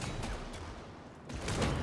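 Dense gunfire from the video game Warhammer 40,000: Darktide, a continuous loud rattle of shots that eases briefly and then swells again, with no talk.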